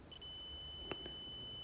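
A multimeter continuity test gives a single short electronic beep, ringing out faintly, followed by a quieter second blip against low background hum.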